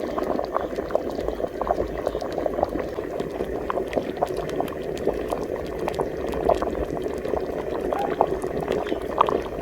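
A pot of yellow beans with butter boils steadily and close up, giving a dense, continuous bubbling with fine popping throughout. There is no talking.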